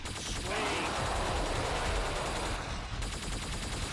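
A Helios rifle fires in Killing Floor 2, a loud, dense stream of rapid gunshots with a brief dip before resuming, nearly continuous through the moment.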